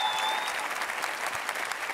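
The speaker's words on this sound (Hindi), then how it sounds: "कोई तालियां वालियां बज जाए" Studio audience applause on a Pakistani TV talk show greeting guests Feroze Khan and Asim Azhar, a brief, loud burst of steady crowd clapping with no words over it.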